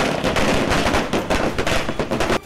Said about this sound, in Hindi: इन कार्यकर्ताओं ने जमकर आतिशबाजी की।